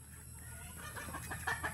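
A chicken gives a few short, soft clucks close by toward the end, over a quiet background hum.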